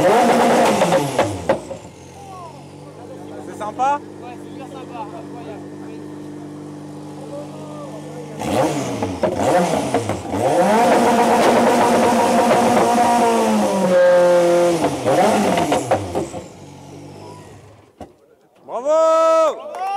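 Citroën ZX Dakar rally car with a 1.9 litre turbo engine of about 330 horsepower at a motorsport event, several loud revving bursts with rising and falling pitch separated by idling, close by. Brief talk comes near the end.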